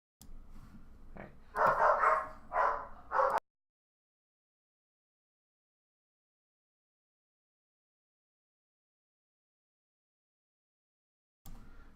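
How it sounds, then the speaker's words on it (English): Dogs give a quick burst of barks close to a sensitive microphone, with several sharp yips packed into about two seconds. Near silence follows. "I'm trying to get the dogs to not bark on the microphone"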